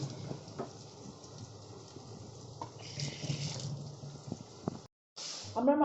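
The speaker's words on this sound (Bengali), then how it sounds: "চলো হাতটা ধুয়ে নিই" Running water splashing steadily during hand washing at a home sink, a continuous close hiss with brief drips, cut by a short silent gap and a few clattering knocks near the end.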